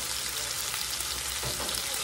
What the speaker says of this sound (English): So I'm going to go ahead now and put my onions and peppers in there.